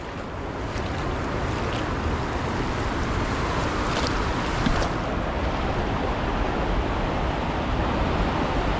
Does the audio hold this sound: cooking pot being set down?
no